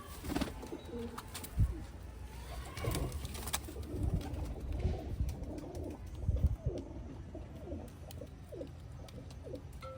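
A flock of female pigeons gives repeated low, throaty coos, some near and some further back, in an uneven rhythm with brief louder bursts and a faint rustle between calls.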